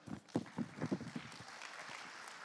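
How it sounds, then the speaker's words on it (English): Scattered clapping from a crowd at a high school spring band concert, fairly close, with a few louder claps early on before it settles into a steady patter. "Round of applause."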